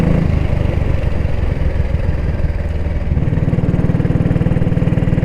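A Norton Model 20 motorcycle engine runs steadily at idle, a loud close throb with a busy mechanical clatter from the top end and no voices.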